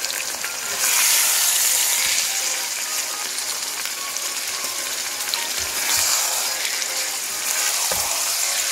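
Masala-coated chicken pieces and potatoes fry for biryani, giving a loud, steady sizzle with a crackling hiss that swells at the start and again near the end, with a few soft clinks of utensils and no talking.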